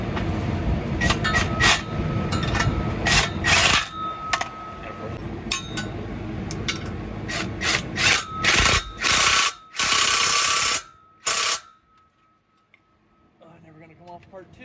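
Ratcheting wrench tightening a bolt on a K24-swapped turbo Miata engine, with rapid clicking bursts and metallic clatter in close, loud stretches, then a pause and faint handling noise at the end.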